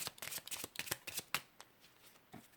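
Tarot cards shuffled for a reading: a quick run of crisp, papery riffling bursts that thin out and fade toward the end, close by and alone.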